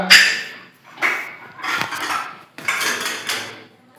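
Steel dishes and utensils clatter and clink in several bursts, metallic rattles with short pauses between, close by.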